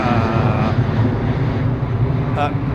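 A Boeing 787 Dreamliner at London Heathrow gives off a steady, loud engine rumble and drone, with a voice talking over it throughout.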